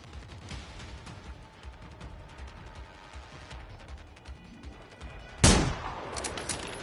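Scattered distant gunfire crackles through the first seconds in the video game Generation Zero, then a single loud, sharp sniper shot rings out near the end with a lingering echo.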